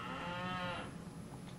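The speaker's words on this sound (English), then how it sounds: "Cows are complaining for some reason." Cattle on a farm moo loudly in one long, drawn-out call that fades after about a second, followed by quieter background noise.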